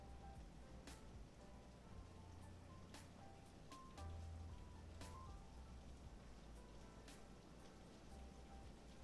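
Steady rain falls outside, a dense continuous patter across the whole stretch with a few sharper drops standing out, moderately loud and unbroken, with no talk over it.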